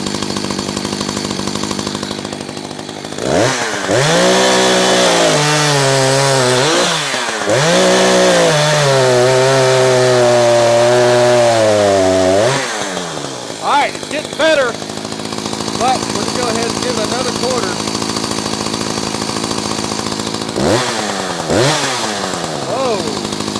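Echo CS-590 chainsaw engine revving and bogging while its carburetor is tuned, loud and close, with rising and falling throttle bursts, idle stretches and someone talking between revs.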